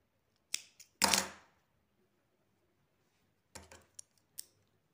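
Scissors snip thread while a handmade fancy dress is sewn, a few sharp close cuts with a longer rasping snip, then a pause and several lighter clicks.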